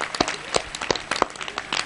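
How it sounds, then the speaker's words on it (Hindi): Sparse, irregular hand claps from an audience welcoming a maulana at a public gathering, a handful of distinct claps at moderate distance rather than a full ovation. "एक बार जरा जोरदार तालियों से स्वागत कीजिए हमारे मौलाना साहब का"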